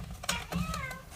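A pet cat gives a short, close meow, partly mixed with a soft voice nearby.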